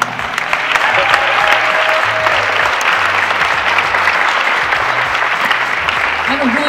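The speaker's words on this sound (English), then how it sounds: "Give me a round of applause for my girl," Audience applause at a service event, loud, continuous clapping from a large crowd with voices mixed in and low tones running underneath.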